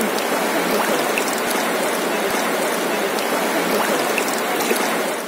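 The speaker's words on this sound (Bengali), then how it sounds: "ঝর্ণার শীতল পানির স্রোত এবং কলকল ধ্বনি আপনাকে নিমেষেই প্রশান্তি" Water of the Dhalai river stream rushes and gurgles over stones at Sada Pathor, a steady, loud, close wash of flowing water with no voices.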